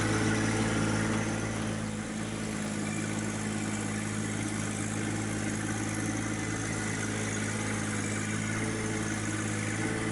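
A John Deere 1025R compact tractor engine runs at a steady idle while spreading gravel with a rear blade, a constant low droning rumble that holds evenly throughout.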